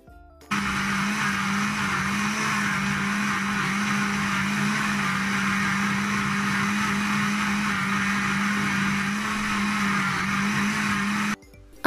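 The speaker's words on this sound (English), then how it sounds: "I'm going to blend in the blender, and I'm going to be blending for 4 to 5 minutes in a high speed." A high-speed blender runs steadily on coconut and hot water, a loud continuous motor whine with a churning hum, starting abruptly and cutting off near the end.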